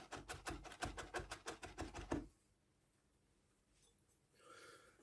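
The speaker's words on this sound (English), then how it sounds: "Garlic, I just chop really fine." Rapid, even knife chops on a cutting board as garlic is minced finely for a beetroot potato salad, a dozen or so crisp strikes over two seconds, then silence and a faint rustle.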